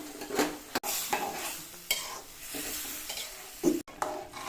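Curry sizzles and bubbles in a pan after water is added, with a steady frying hiss broken by sharp scraping stirs and the clink of a utensil against the pan.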